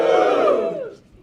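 Loud audience cheering and whooping fills a comedy club at Hot Water Comedy Club, a dense crowd roar that holds strong and then fades away within about a second.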